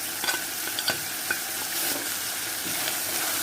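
Spices being stirred into frying food in a pan for a Bengali dish of Malabar spinach with dried shrimp, cumin-coriander powder going in: a steady hiss of sizzling oil broken by several soft scraping strokes, close and with no one speaking.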